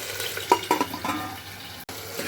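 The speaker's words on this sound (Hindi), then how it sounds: "टमाटर डालने के बाद टमाटर थोड़ा सा सिमर होने दीजिए" Tomatoes simmering in a pan for chana masala, a soft steady bubbling hiss with a few brief stirring clinks early on, close and moderately loud with no voices.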